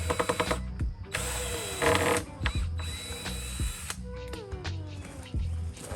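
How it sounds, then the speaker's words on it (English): Power drill boring screw holes through wood while building an outdoor kitchen, with bursts of whining motor that rise and fall, separated by clicks and handling clatter, close and fairly loud. "So we're gonna put a screw hole through each side."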